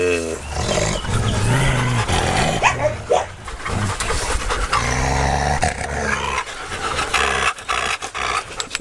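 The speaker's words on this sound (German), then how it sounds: "Es gibt davor verschiedene Knurrarten." A pack of dogs that includes females in heat growls and snarls continuously. The sound is loud, rough and layered, with deep rumbling and occasional sharper roars, close by.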